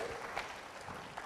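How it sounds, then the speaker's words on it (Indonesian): A church congregation applauds, the clapping brief and soft, heard as a faint patter at a distance. "Berikan tepuk tangan bagi Tuhan"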